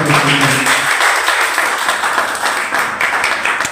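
Audience clapping at a university philosophy department gathering, a dense continuous patter of many hands filling the room, loud and steady throughout with no talk over it.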